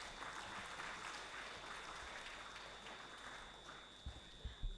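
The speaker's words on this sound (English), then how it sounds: "Let us all give a big round of applause to the guests." Sustained audience applause at a college event, a dense, steady clapping wash lasting throughout, with a few louder claps near the end.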